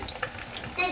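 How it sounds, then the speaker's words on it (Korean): Tortillas fry thinly in oil in a home kitchen pan, giving a close, continuous sizzle and crackle that swells briefly near the end. "기름을 둘러 얇게 튀기는 걸로 대신할 수밖에 없다"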